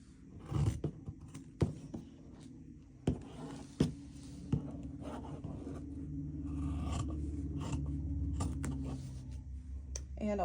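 Scissors snip through a fabric corner while a tote bag is being cut out for sewing, giving several sharp close clicks early on, then a steadier low scraping and rustle of cloth, with no talk.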